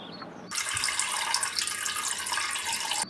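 A child urinating, heard as a steady splashing stream of liquid that starts abruptly, runs for about two and a half seconds and then cuts off.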